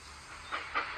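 Steam engine chuffing in three rising bursts, each louder than the last, over a steady hissing rail background; no talking.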